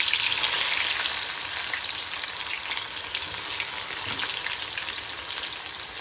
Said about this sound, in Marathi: कोथिंबीर कढीपत्ता तळून घेतला की त्यामध्ये आपण कारली घालणार आहोत आणि कारलीसुद्धा तेलामध्ये आपल्याला तळून घ्यायची आहे